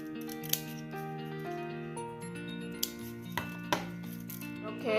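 Scissors snip through paper sheets while cutting out peony petal shapes for a paper-art diffuser stick, giving a few sharp, close clicks over steady background music.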